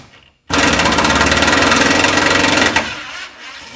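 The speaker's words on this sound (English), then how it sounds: "you're going to take your hex bit and go in reverse with the screw pulling the rivet together" A hex bit driver spins in reverse to draw a rivet nut tight in a 2022 Toyota Tacoma hood, making a loud buzzing, rattling burst of about two seconds that then cuts off.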